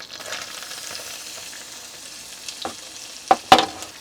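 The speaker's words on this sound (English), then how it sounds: "Now we'll saute this for a few minutes till they get nice and golden" Red onion shavings sautéing in a pan for a keto chicken and cream sauce, a soft steady sizzle through most of the stretch, then a few sharper scrapes and clatters of stirring near the end, with no talk.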